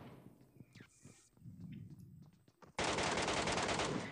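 MK rifle gunfire in the PUBG Mobile game starts with a few scattered shots and footsteps, then a sudden, loud, sustained burst of rapid fire with no talking.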